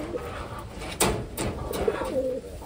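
A pigeon coos close by, soft repeated low calls over a steady hiss of background noise and faint rustling.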